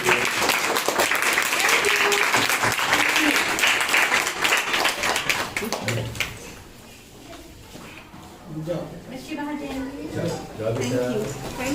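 A school teachers' meeting audience claps after a pop-up book presentation for a reading campaign, with sustained applause that fades before people talk and a few scattered claps resume.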